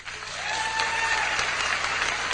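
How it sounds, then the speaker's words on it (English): A comedy club audience clapping steadily throughout, a dense continuous burst of applause with a faint whistle-like tone rising through it. "Let me hear you clap, truthfully."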